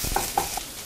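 Browned onions and ginger garlic paste being stir-fried for a home-style Kerala chicken curry, a spoon scraping the pan in three short, quiet strokes over a faint sizzle.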